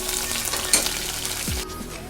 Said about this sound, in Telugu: ఉల్లిపాయలు కూడా వేగినాయి కదండి.